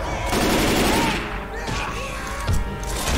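Dense automatic gunfire from the zombie shooter Left 4 Dead 2, a continuous loud rattle of shots across the whole span with a heavier burst near the end.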